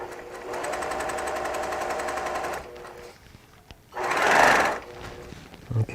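Sewing machine stitching quilt seams, a couple of seconds of quick rattling stitches, then a short pause and a brief rustle of fabric being moved.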